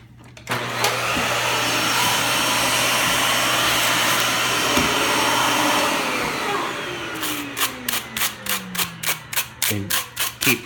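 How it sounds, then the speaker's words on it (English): A Dyson vacuum cleaner runs with a loud, steady whine while clearing hair from vacuum brushes, then shifts to a rhythmic series of pulsing surges as the nozzle works along the brush. "And you turn on the Dyson or the vacuum of your choice."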